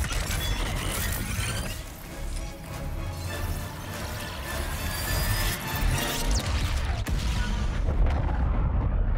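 An explosion in Ratchet & Clank: Rift Apart comes as a dense, rumbling crash amid clattering mechanical debris and whooshes, loud and continuous, building toward a heavier burst near the end.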